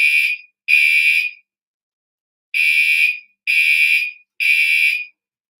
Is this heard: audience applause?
no